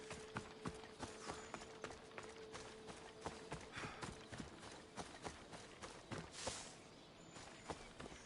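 Horse hooves clip-clop steadily in Assassin's Creed Odyssey, an even trotting rhythm of sharp strikes throughout, quiet and fairly close, with no talking.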